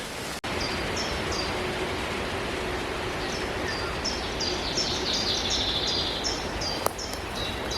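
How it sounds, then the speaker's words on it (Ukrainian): Birds sing in a forest in Kyiv region, brief repeated high chirps and calls standing out over a constant loud wash of wind and leaf noise, with one sharp click near the end. "в цьому місці дуже красивий спів пташок"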